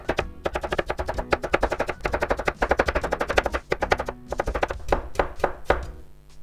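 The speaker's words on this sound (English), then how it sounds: "I'm gonna start cutting from this side like the same way as I did with the carrots." A knife chops rapidly on a cutting board, slicing a vegetable into thin strips for Japanese kimpira, with dense, fast, evenly spaced close-up thuds that pause briefly before continuing more slowly.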